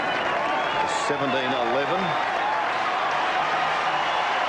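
A large crowd at a 1988 VFL Australian football match between West Coast and Melbourne at Subiaco gives sustained warm applause for a departing player, a dense steady roar under a commentator's voice.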